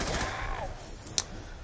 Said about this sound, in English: The Tommy gun, Pack-a-Punch, is pretty beast gun.